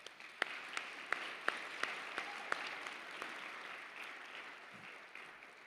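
An audience at a Breakfast for Humanity charity event applauds a sponsor, with a few crisp, distinct claps at the start, then a steady, fairly distant wash of clapping that gradually tapers off.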